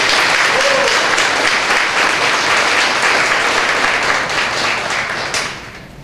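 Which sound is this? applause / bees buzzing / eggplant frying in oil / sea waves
applause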